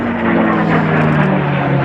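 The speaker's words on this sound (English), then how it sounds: "it looks to me like a barrel roll" P-51 Mustang fighter planes performing a barrel roll at an air show, their propeller engines producing a loud, steady droning roar with a sustained low tone throughout.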